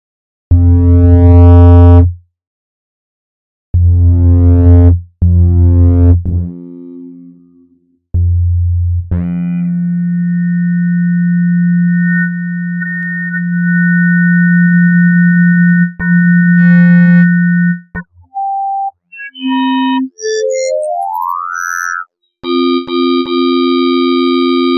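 Synthesized tones built by additive synthesis in Reaktor: loud buzzy bursts, then a long steady hum, followed by short beeps, a rising sweep and a final bright held tone, alone with no voices.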